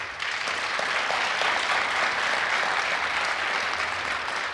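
Sustained applause from an audience at a live forum in Antalya, a thick continuous roar of many hands clapping at even loudness, with no voices standing out.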